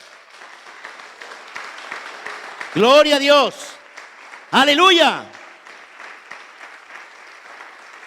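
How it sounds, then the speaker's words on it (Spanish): Steady applause from a church congregation fills the space while someone shouts two loud, drawn-out exclamations over it. "Damos un fuerte aplauso al Señor."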